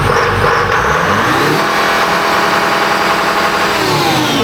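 A Detroit Diesel 453 engine with an electronic tune revs hard on a dyno, a loud, steady, rising mechanical roar that fills the whole stretch with no voices over it.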